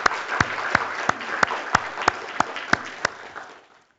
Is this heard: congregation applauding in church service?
yes